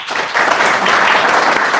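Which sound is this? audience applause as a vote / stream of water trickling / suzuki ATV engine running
audience applause as a vote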